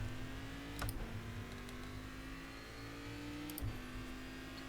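Cadillac CTS-VR race car at Laguna Seca in iRacing, its engine droning at a steady pitch with two brief sharp shifts or blips, braking hard toward a corner apex; no voices.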